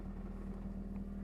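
A 2008 Honda Accord engine running after an oil pan replacement, with the earlier misfire gone, gives a steady, close, low idling hum with no talk over it.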